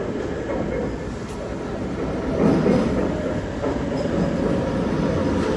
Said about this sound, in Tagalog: Train to Bhutan.